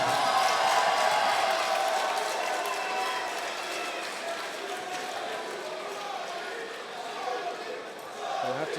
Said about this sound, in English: the crowd chant his name here